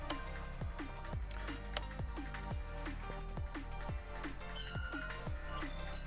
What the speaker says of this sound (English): I forgot to put my phone on silent